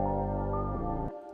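A reversed synth pluck with reverb swells as a quiet, smeared wash of tone that shifts pitch and then cuts off abruptly, heard alone.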